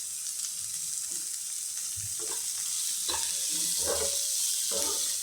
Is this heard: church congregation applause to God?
no